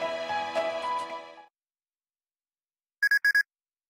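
A short telephone ringtone chirps three times in quick succession in the role-playing game Fairy Fencer F, sounding alone and loud after a stretch of silence that follows fading music.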